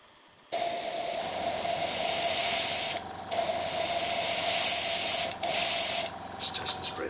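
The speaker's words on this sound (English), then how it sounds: "At this point you can just squirt another bit more water through" An airbrush spraying water during cleaning, a steady, loud hiss running for a few seconds, cutting off briefly, resuming, then ending in short sputtering bursts.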